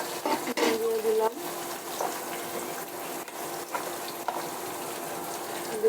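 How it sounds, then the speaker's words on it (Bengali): An egg sizzles in a pan of lightly browned onions, a steady soft crackle and hiss with a few brief louder spatters, fairly quiet and constant throughout. "পেঁয়াজগুলো আমার হালকা ব্রাউন হয়ে আসছে, এখানে আমি একটা ডিম দিয়ে দিচ্ছি।"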